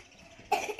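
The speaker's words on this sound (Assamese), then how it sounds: "কাহ হৈছে নেকি তোমাৰ" A single short cough breaks out suddenly halfway through after a quiet moment, close and fairly soft.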